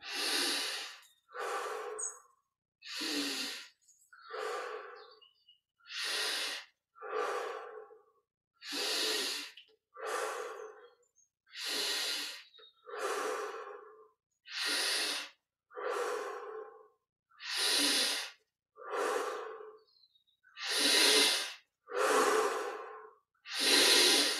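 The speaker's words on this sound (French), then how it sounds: "on prend nos 25 respirations profondes. On inspire par le nez, on expire par la bouche." Deep, steady breaths during a Kriya Yoga guided meditation, drawn in through the nose and let out through the mouth. About eighteen close, even breath sounds follow one another in a regular rhythm, heard alone with no talking.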